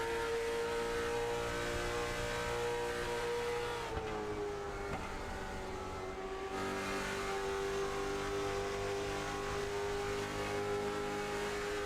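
Race cars in a virtual racing game run down the track at lap 33, their engines holding a loud, steady high drone with a brief dip in pitch, continuous throughout without any talking.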